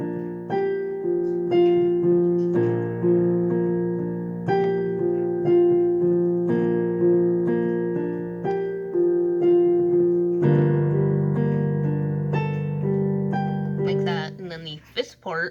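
Piano plays four parts of a song together, repeated chords struck in a steady pulse at moderate loudness, shifting to a fuller lower voicing near the end before a brief flurry.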